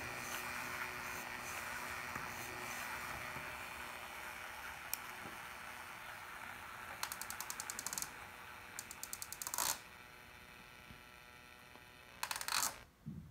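Model train wheels spin with a faint, steady whir against a Woodland Scenics Roto Wheel Cleaner, with scattered light clicks and short metallic rattling bursts near the end.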